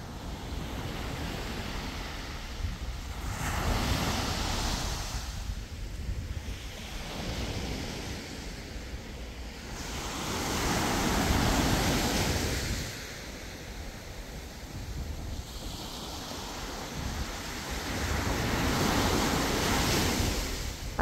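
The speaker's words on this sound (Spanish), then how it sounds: "A esta hora como que el mar está súper fuerte." Strong sea waves surge and break on a beach at dawn, rising and falling in long swells with a steady roar of surf and some wind noise on the microphone, close and loud, with no voices.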